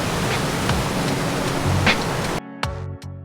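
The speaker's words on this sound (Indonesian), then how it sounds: "gemuruh air mulai terdengar" A steady, dense roar of the Curug Ciberem waterfall on Mount Gede, Indonesia, fills most of the clip, then cuts out abruptly near the end, leaving a few faint clicks and thumps.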